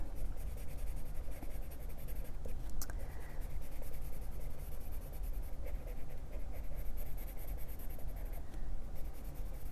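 Teal-green watercolor pencils scratch and rub steadily on paper in close, continuous strokes while a plant is shaded, with a few brief louder scrapes and no voices.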